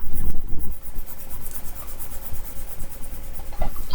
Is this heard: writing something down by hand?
yes